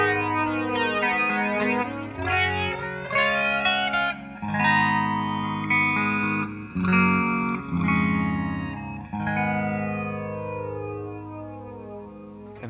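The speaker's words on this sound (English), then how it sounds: "starting off with a clean tone, it's going to sound like this" An electric guitar with a clean tone plays through an MXR EVH117 flanger pedal, its chords and notes swirling with a sweeping, jet-like whoosh over a continuous passage, with no voices.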